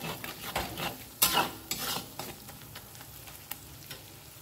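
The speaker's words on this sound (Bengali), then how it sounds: "ভালো করে মশলাটা কিন্তু কষিয়ে নিতে হবে।" Spice masala for chola bhuna frying in a pan, a soft sizzle under rhythmic scraping strokes of a spoon, with a few sharper metallic scrapes near the start.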